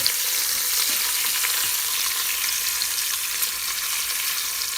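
Two pounds of beef short ribs sear in an Instant Pot, giving a loud, continuous hiss and crackle of hot oil with no speech.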